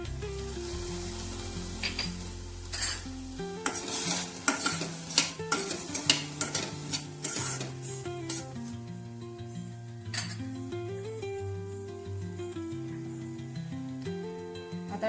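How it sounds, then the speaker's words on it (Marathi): Tomatoes sizzle in a hot pan while a metal spoon stirs and scrapes them, producing repeated clinks and scrapes over steady frying, close up, with soft background music and no talk. "आता टाकूया आपले टमाटर।"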